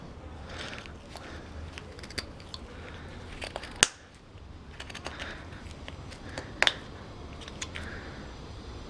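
A carving knife slices across wood fibre while a face is carved into a block of wood, a series of small dry scraping cuts and sharp clicks, close and quiet.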